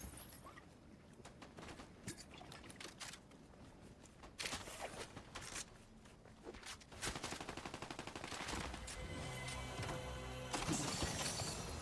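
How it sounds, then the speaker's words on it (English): A shotgun fires in a first-person shooter game, with sharp blasts and rapid bursts of gunfire amid footsteps and game effects, faint overall and growing busier toward the end. "Love a shotgun."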